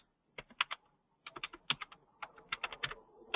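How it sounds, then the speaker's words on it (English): Someone types on a computer keyboard in quick, irregular bursts of crisp key clicks, close and fairly quiet, with brief pauses between runs and no talking. "Oops, bad typing."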